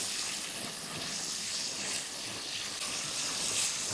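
Sliced small onions being stirred in a hot pan for a Kerala sardine (mathi) curry, giving a steady hiss and sizzle that stays level throughout, with no speech.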